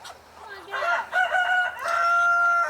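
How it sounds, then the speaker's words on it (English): Roosters crow in a backyard chicken pen, a couple of loud drawn-out crows rising and holding near the mic, one after another, with faint clucking underneath and no talk. "And we've got Fox Junior and Rainbow Junior are the roosters in this pen."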